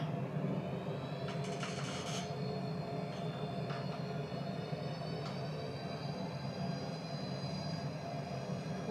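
Airliner jet engines in a flight simulator spool up for takeoff on runway 30, a steady roaring hum with a rising high whine and a few brief clicks, no voices.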